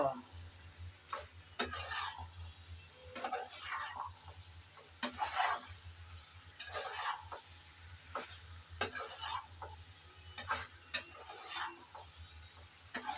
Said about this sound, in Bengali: চনাগুলো দিয়ে নেড়ে চেড়ে ভালোভাবে একসাথে মিশিয়ে নেব